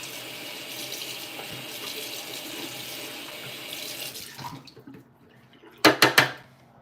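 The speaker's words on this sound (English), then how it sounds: "I'm gonna wash this out so I can have this container again next time" Running tap water rinsing out a plastic hair bleach container, a steady close splashing stream that cuts off midway, followed by a few sharp knocks and sloshes of the emptied tub.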